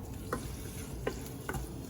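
Chopped tomatoes stirred into a tofu curry in a pan, three distinct scraping spoon strokes spaced through the clip over a soft continuous sizzle.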